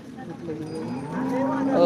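A cow moos at a busy cattle market, a long low bellow rising near the end over a steady murmur of crowd noise.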